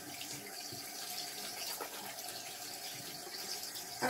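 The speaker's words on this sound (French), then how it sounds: "Je vais me rincer les mains." Hands rinse under a running tap at a sink, a steady quiet stream of water with light splashing that shifts slightly as the hands move, and a small clatter at the end; nobody speaks.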